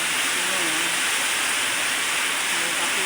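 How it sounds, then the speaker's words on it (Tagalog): Heavy rain pours down in Masbate, a loud, unbroken roaring hiss that fills the scene without pause. "Binigyan tayo ng malakas na ulan ngayon."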